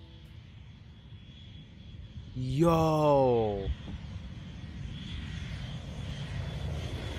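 B-2 Spirit stealth bomber landing, a continuous distant roar of jet engines underneath, briefly covered by a person's loud shout.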